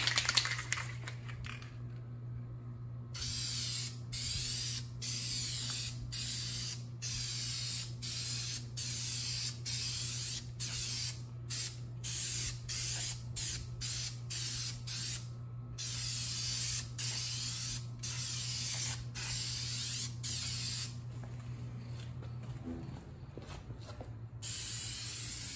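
Aerosol cans of Plasti Dip rubber coating spraying a coat onto a Buell XB9SX motorcycle: a long run of short, loud hissing bursts with brief gaps, over a steady low hum, with no voices.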